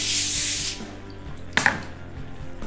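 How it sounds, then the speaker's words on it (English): Water spritzed from a spray bottle onto smoked baby back ribs while wrapping them on a Recteq Bullseye grill, a short hissing burst at the start followed by a faint handling clatter. "I'm not gonna do anything besides spray a little bit of the water here."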